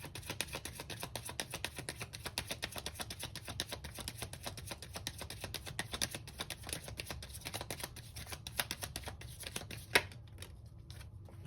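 Tarot cards are shuffled in a steady, rapid riffle of soft papery flicks, close and alone, ending with a sharper snap as a card is drawn.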